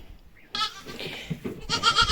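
A goat on a small farm, a milking doe with a clipped coat, bleats twice at close range: a short call, then a louder, drawn-out bleat at the end, with no talking.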